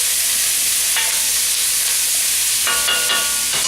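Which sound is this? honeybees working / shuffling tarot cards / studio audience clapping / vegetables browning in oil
vegetables browning in oil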